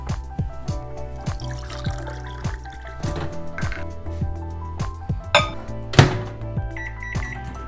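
A metal pot is handled in a kitchen while water is poured to heat for a salt rinse, with a steady liquid fill under a series of sharp clinks and knocks, loud and close.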